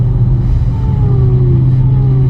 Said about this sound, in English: it kind of sounds like a Pro Charger when it downshifts, or like when I slow down to around like 20 miles per hour